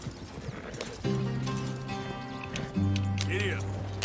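Horse hooves in Red Dead Redemption 2 clip-clop steadily beneath game music and ambient sound, with a voice speaking over part of the passage.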